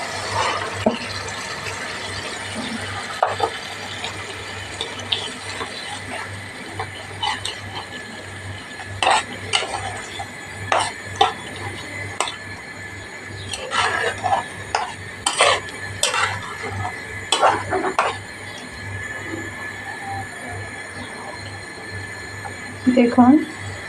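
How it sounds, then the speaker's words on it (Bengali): Taro leaves added to a pan of cooked-down spices and stirred, with intermittent clinks and scrapes of a utensil against the pan over a low background hum, a voice talking in between. "এবার আমি কচু শাকটি দিয়ে দেব।"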